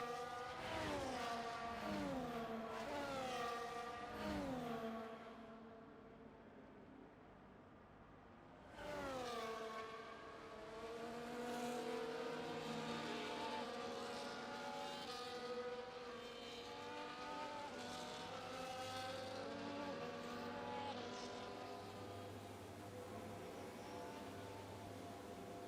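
Race cars finish the formation lap at Las Vegas, engines revving and shifting through gears in rising and falling whines, passing close by in loud waves with a brief lull before the next car screams through.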